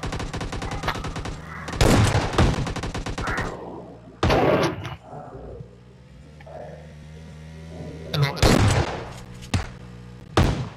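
Gunfire in PUBG Mobile: rapid automatic bursts, each a tight run of cracks, then separate single heavy shots and further bursts after quiet gaps, loud and close.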